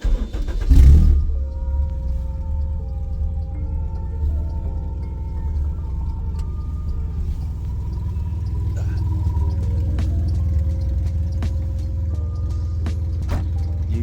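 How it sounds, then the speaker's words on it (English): A supercharged K24-swapped Lotus Elise fires up with a short loud crank and catch, then settles into a deep, steady idle rumble that carries on for many seconds, close to the car. "My fully operable K24 supercharged Lotus Elise is finally done."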